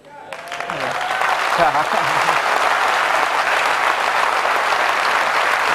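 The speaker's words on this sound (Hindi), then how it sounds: "आप सबको ताली बजाने के लिए सिखाया गया है ना" A lecture audience applauds during a talk on positive thinking. A voice is briefly heard as the clapping swells in, then loud, dense applause continues steadily for several seconds.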